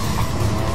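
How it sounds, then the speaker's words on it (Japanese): Race car in a racing video game braking hard and skidding, a steady loud rumble of engine and tire noise throughout a short burst. "これでも3回ブレーキ踏んだんだよ俺。"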